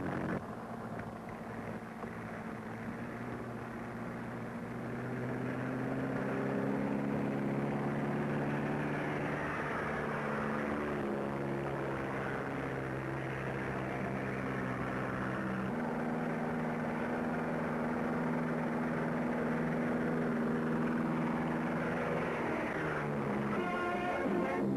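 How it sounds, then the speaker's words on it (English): Tubular radio-controlled model airplane flying, its small engine giving a continuous buzzing drone with shifting pitch as it passes, moderately loud and steady throughout with no talk. "It's a new tubular plane invented by an Italian engineer"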